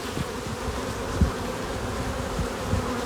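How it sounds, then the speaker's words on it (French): A steady, dense drone of honeybees buzzing close by at a hive, with a few soft thumps underneath and no voices. "C'est une ruche avec énormément de couvains, énormément d'abeilles."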